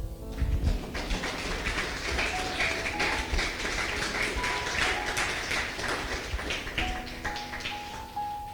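A church congregation clapping together in a continuous rhythmic burst, steady and moderately loud throughout, with faint music tones underneath.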